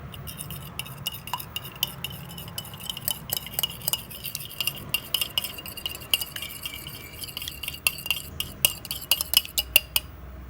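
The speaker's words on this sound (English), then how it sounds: "Here we have an egg, so we are going to beat it nicely." An egg beaten briskly in a bowl with a metal utensil, a fast run of light clinks and taps that goes on without a break and carries no speech.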